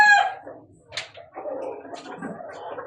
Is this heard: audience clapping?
no